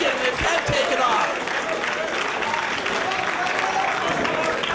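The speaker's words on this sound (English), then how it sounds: "Boy, this crowd is just electric." A large wrestling crowd cheers and applauds continuously at a live match, loud and dense throughout, with a couple of thuds near the start.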